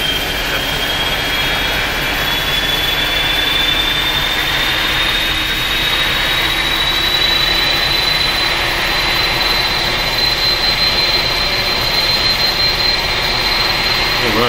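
Simulated jet engine of an iniBuilds A300 airliner in X-Plane 11, a loud continuous roar with a slowly rising high whine as the engine spools, steady and close, no talk.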